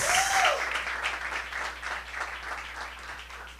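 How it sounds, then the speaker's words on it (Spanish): A church congregation applauds together during a Sunday service, a dense, steady wash of clapping that rolls on without pause and eases slightly toward the end, with a brief voice over it at the very start. "Dale esa ofrenda de palmas."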